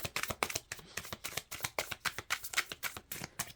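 Tarot cards are shuffled by hand in quick, rhythmic bursts of riffling and slapping, close and fairly quiet, with no talking.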